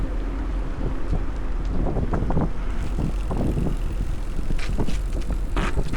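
Strong wind buffets the microphone while riding a bicycle in minus 12 degree wind-chill weather, a steady loud roar and rumble across the whole span with gusting swells, no voices.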